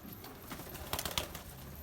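A homing pigeon coos softly nearby in a few low, throaty bursts over a faint outdoor background.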